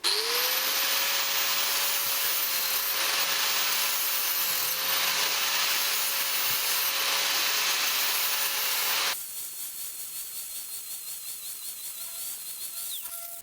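A hand file rasps across a steel lawnmower blade, flattening dents and gouges out of the edge in a steady, continuous scraping stroke for about nine seconds before a quieter, lighter rubbing follows.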